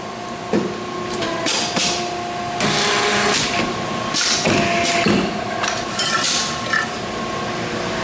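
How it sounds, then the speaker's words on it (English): A YFM-V8 automatic plastic zipper open-end injection machine, made in Taiwan, runs one injection cycle: steady mechanical whirring and hum with a few clunks and hisses, close and continuous with no talking. "The machine will make one time injection."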